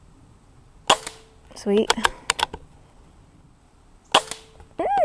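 Benjamin Marauder .22 PCP airgun fired at field targets outdoors: two sharp, close shots about three seconds apart, with a brief clatter of pellet hits between them and a person speaking briefly.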